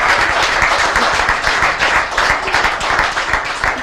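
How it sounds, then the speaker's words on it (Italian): Lively audience clapping and applause for a cyclist at a women's cycling event, dense and loud throughout with a quick rhythmic beat, no talking over it. "fategli un applauso"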